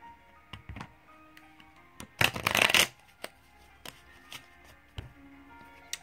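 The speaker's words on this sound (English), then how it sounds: "Okay, I need to shuffle." Tarot cards are riffled and shuffled close up, with a dense burst of flapping in the middle and scattered soft taps and clicks before and after.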